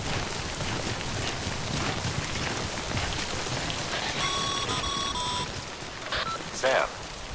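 Steady rain pours in Death Stranding, a dense hiss of drops on surfaces throughout, joined near the end by a few brief electronic beeps and chirps.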